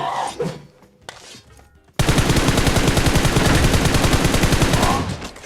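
Rapid sustained automatic gunfire in a battle royale video game, a dense unbroken burst of shots lasting several seconds, loud and close, following a quieter stretch with faint earlier shots.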